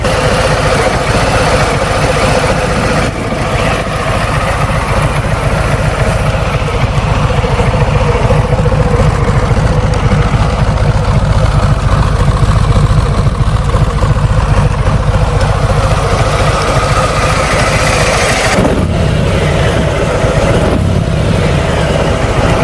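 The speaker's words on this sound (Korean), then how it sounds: "엔진 회전수가 지금 아이들링이 약 1000rpm이 조금 못 미치고 있는데" A Harley-Davidson Street Glide's large-displacement engine idles just under 1000 rpm, a loud, close, steady low rumble with a lumpy throb that continues throughout, no one talking over it.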